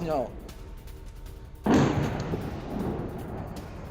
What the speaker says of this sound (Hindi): रोस्टोव में यूक्रेनी हमले के बाद विस्फोट हुआ है